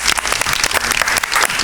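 A studio audience at a Spanish-language science TV show applauds loudly and steadily, dense clapping filling the whole moment without a break.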